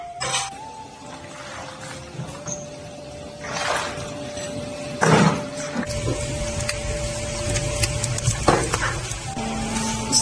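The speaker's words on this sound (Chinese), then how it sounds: "煮的时候要翻一下锅" Chilies and beans are stirred in a big pot of boiling water on a farmhouse stove, with a steady bubbling, sizzling wash, scraping stirs and occasional clunks of a utensil against the pot.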